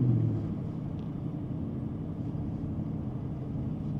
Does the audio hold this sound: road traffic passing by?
yes